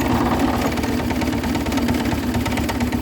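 A John Deere 200 series garden tractor engine runs at full speed in second gear, a loud, steady close mechanical drone with a rapid even pulse throughout, no voices.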